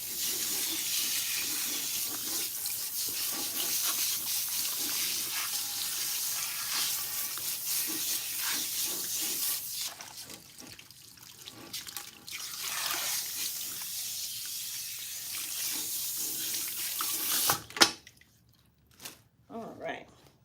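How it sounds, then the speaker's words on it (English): Cool tap water runs at a salon sink while a client's hair is rinsed, a steady splashing wash with dripping and squishing sounds, then trickles to a stop followed by scattered drips. "And then we'll use cool water to rinse that area as well."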